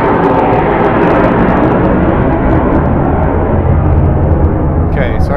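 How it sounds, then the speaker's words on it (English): A fixed-wing airplane passes overhead during a livestream, a loud, continuous broadband roar that holds steady across the whole stretch. "Oh, here comes an airplane."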